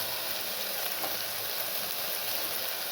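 Brinjals simmer in a pan with turmeric and plain chili powder for a veg curry, giving a steady, close, even sizzle and bubbling hiss with no pauses and no voices.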